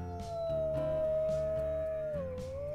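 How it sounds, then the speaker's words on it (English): A wolf in the video game WolfQuest gives one long, steady howl that holds a sustained tone and dips in pitch near the end, over a low continuous game background, with no talking. "Yeah, we howl together."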